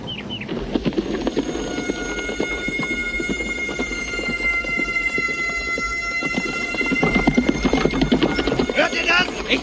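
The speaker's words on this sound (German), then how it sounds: "Hört ihr das? Ist das ein Pferd?" Steady, rhythmic clip-clop of horse hooves close by, continuing throughout with voices murmuring in the background.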